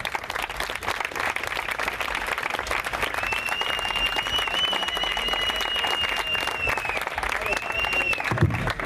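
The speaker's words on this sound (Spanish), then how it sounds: "un aplauso para él" Audience at the closing rally of a political summer school in Spain breaks into sustained, dense applause, with a thin whistle-like tone riding above the clapping and voices mixed into the crowd noise.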